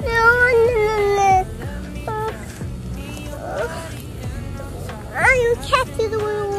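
A cat meows in short, tonal cries near the start and again toward the end, close by, with household noise between.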